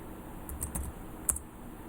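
Keys clack on a computer keyboard as a domain name and password are typed at a Windows Server 2019 login, a few quick, light taps with one sharper keystroke, close and with no voices.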